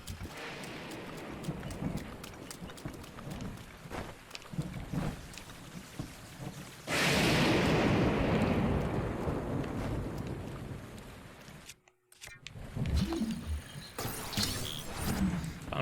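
Lightning strikes in the video game Breath of the Wild, bringing a sudden loud crack of thunder that rolls and fades over several seconds amid a continuous backdrop of rain and game sounds.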